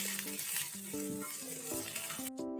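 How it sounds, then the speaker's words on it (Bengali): Chopped garlic and onion fry together in a pan, a soft sizzle under repeated scraping stirs, with a tonal hum or music underneath before the sound cuts off near the end. "রসুন কুচি দেওয়ার পর দিয়ে দিলাম পেঁয়াজ কুচি, দুটোই একটু সামান্য ভাজা ভাজা করে নিচ্ছি।"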